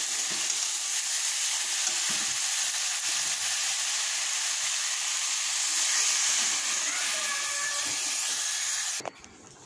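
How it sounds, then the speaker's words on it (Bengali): Water poured into a pan of fried food sets off loud, steady sizzling and hissing that holds for about nine seconds, then cuts off abruptly near the end. "এর জলটা দিয়ে দেবো, ভাজা ভাজা হয়ে গেছে, সেদ্ধ হবে।"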